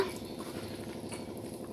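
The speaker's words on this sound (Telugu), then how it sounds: "ఇప్పుడు మాకు వర్షం పడుతుంది. బాగా పడుతుంది." Heavy rain falls outdoors while onion pakodi are being prepared, a faint, steady patter with no break across the moment.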